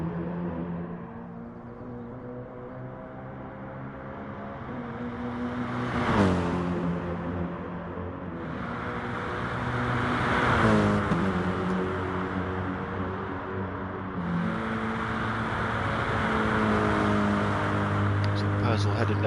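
A race car roars past on the Nürburgring circuit during a sim-racing team event, engine pitch sweeping up and down as it nears and recedes, with a commentator talking over the engine drone throughout.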